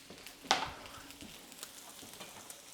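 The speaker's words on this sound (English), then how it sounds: "I put some more hot oil in the bottom here, and we're gonna fry these up" Onion, celery and snow peas frying in hot oil, opening with a sharp sizzling burst as they hit the pan, then a quiet steady crackle with light stirring taps.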